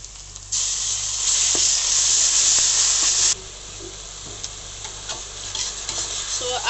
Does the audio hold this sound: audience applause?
no